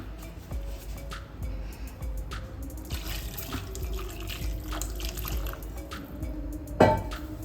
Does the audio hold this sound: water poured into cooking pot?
yes